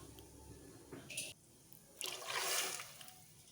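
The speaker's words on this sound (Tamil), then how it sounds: "இப்போ நான் சாம்பாருக்கு தேவையான தண்ணி ஊற்றிக்கிறேன்" Water is poured into a cooking pot for sambar after the tomatoes are sautéed, with a brief splash followed by a louder, sustained pour and trickle close by in a home kitchen.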